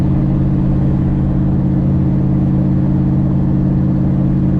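1955 Buick Roadmaster, long abandoned and prone to overheating, cruising on the road toward town, its engine droning in a loud, constant low hum with steady road rumble and no change in pitch.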